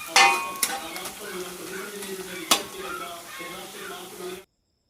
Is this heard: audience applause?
no